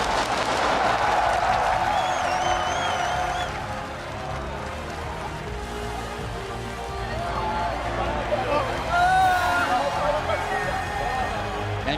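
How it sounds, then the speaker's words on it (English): A crowd at an esports world championship final claps and cheers in a standing ovation after a team wins its third title. The applause and roar stay steady throughout, with a commentator's voice and crowd noise mixed in. "the crowd's giving a standing ovation after that one"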